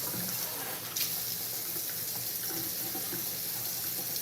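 Water runs steadily from a sink faucet as something is rinsed under it, a close, continuous splashing hiss that stays even throughout, with a few small bumps and clinks.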